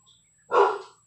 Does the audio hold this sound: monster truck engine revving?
no